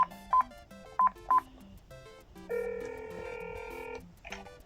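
Touch-tone keypad beeps from a mobile phone, a few short separate tones followed by a longer sustained dual tone, close and clear with no talking.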